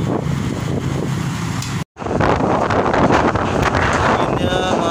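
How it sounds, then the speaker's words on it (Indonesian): Strong wind roaring in heavy gusts against the microphone during a storm in Jakarta, a dense, loud rumble with a brief cutout, while people talk underneath. "Anginnya Masya Allah kenceng banget angin"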